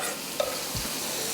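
Chopped lobster claws and tail are stirred in a hot pan, a brief close scrape and clack over a steady sizzle.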